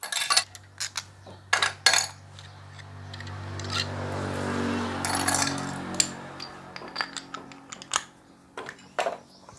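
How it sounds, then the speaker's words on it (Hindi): A spanner loosening 10 mm nuts on the clutch cover of a Hero HF Deluxe BS6 motorcycle, with repeated close metallic clicks and clinks of the tool and nuts, a steadier hiss in the middle, no talk. "तो 10 नंबर के नट है वो ऑपोजिट बाय ऑपोजिट खोले, एक नट पूरा ना खोले"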